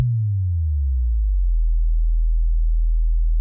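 A deep sub-bass cinematic boom made in FL Studio sweeps downward in pitch, then settles into a steady, loud low hum that sustains alone.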